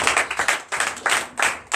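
A church congregation at a Sunday service in Comè, Benin, claps for Jesus in bursts of rhythmic group clapping, close and loud, grouped into short repeated waves with brief gaps between them.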